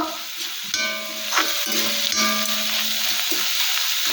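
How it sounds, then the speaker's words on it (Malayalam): Crushed garlic, green chilies and curry leaves frying in hot oil in a pan, a steady close sizzle with occasional crackles and stirring scrapes throughout, no voices. "ക്രഷ് ചെയ്തതും പച്ചമുളകും കൊടുത്തു. അതെല്ലാം കൂടെ ഒന്ന് മൂക്കട്ടെ."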